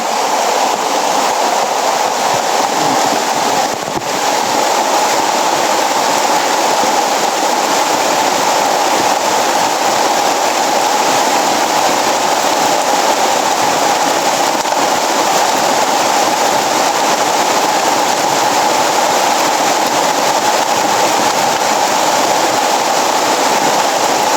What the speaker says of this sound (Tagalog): Nakikita nyo naman yung sobrang lakas ng ulan.